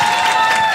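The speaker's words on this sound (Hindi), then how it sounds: "जोर से ताली बजाओ" A stand-up comedy audience clapping loudly, a brief dense burst of applause with some cheering, close and full for under a second.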